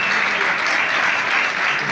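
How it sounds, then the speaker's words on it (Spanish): An audience at a Ukrainian ballet performance by the Lviv company applauds, a dense, steady wash of clapping from a large crowd, loud and continuous with no other sounds. "Y un aplauso para todos."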